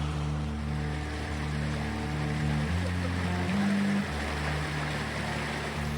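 Creek water rushes in a steady hiss along a forest hiking trail near Gales Creek in Tillamook, Oregon, with a low tonal drone layered over the flowing water.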